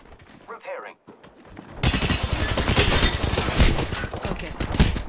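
Rapid gunfire in Apex Legends erupts after a quiet start with a voice, becoming a loud, dense fusillade of shots with shattering impacts that continues to the end.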